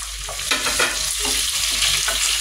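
Onion sizzles loudly in a pan alongside chicken pieces while being stirred, a close, continuous frying hiss with scraping strokes from the spoon.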